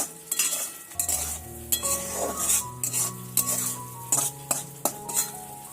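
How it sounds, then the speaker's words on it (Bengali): Chicken bhuna masala, loosened with a splash of water, sizzles in a pot as a metal spoon stirs it, giving repeated clinks and scrapes against the pan, close-up with no talking. "বাটিটা ধুয়ে সামান্য একটু পানি দিয়ে আবারও নেড়েচেড়ে কষিয়ে নিচ্ছি"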